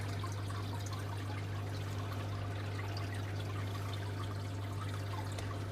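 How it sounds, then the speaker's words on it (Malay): Water pouring from a 25mm pipe down into an aquarium sub tank, a steady, fairly quiet trickling and splashing flow with a constant low hum beneath, continuous throughout. "Cuma bunyi air masuk lah"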